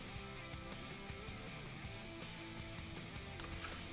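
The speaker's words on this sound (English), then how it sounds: "The butter melts beautifully." Butter melting in a pan for a keto omelette gives a steady, close sizzle with fine crackling throughout, joined by faint background kitchen sounds and music-like tones, with no talk.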